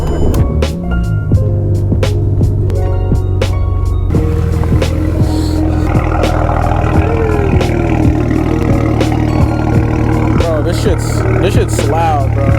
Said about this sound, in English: let's hear a cold start on this 335i fully straight pipe